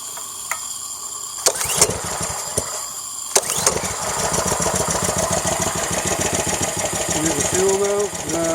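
A Ryobi pressure washer with a GCV190 engine that needs fuel and tuning gives a couple of sharp pull-start snaps, then catches and runs with a close, steady, chugging putter.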